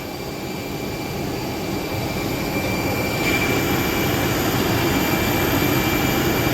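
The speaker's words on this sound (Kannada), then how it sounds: "ಮಲೇಷ್ಯಾದಿಂದ ಬೆಂಗಳೂರಿಗೆ ಇದೇ ಫ್ಲೈಟ್ ಬರ್ತಾ ಇರೋದು." A jet airliner flying from Malaysia to Bengaluru roars steadily and grows slightly louder as it passes, a broad continuous engine noise with a high whine.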